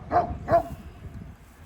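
A white dog at a farmhouse in the Blue Ridge Mountains of western North Carolina barks outdoors, two sharp, fairly close barks in quick succession followed by quiet ambient noise.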